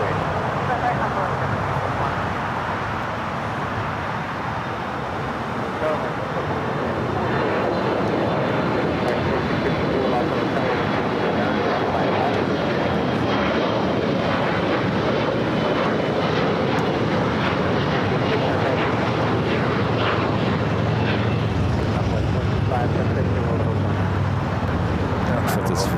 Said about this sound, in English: Next takeoff, a flight headed to Eugene, Oregon, Embraer E175LR, SkyWest, Alaska SkyWest, flight 3446.